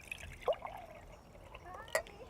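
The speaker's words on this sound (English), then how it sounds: "add some water." Water poured into a glass jar holding tomato pulp and seeds, heard as a few short splashing trickles with brief louder gurgles, close and fairly faint.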